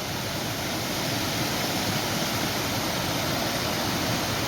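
Water pours steadily over a check dam near a forest road among mango plantations, a dense continuous rushing roar that stays loud and even throughout, with no voices.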